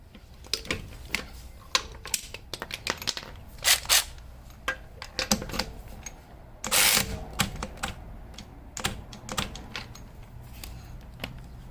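Harbor Freight Earthquake XT 12V 3/8-inch cordless ratchet wrench under torque testing: a rapid, irregular series of sharp mechanical clicks and ratcheting snaps, with a brief louder whirring burst partway through, close and without speech.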